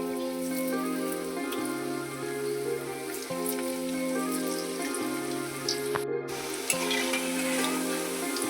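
Baby corn pieces frying in hot oil for crispy chilli baby corn, a continuous soft sizzle and crackle under steady background music.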